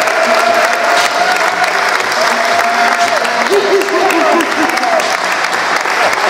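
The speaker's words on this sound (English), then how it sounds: "Let's give a big hand" Loud, dense applause from an audience at a basketball association event, a continuous wash of clapping with some voices in the crowd and a few tonal sounds.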